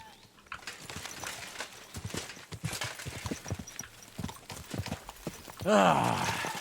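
Steady clip-clop of horse hooves at a walking pace in the video game Kingdom Come: Deliverance 2, close by, ending with a loud whinny; faint background voices underneath.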